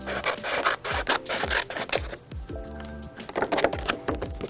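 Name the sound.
trimming cardboard construction material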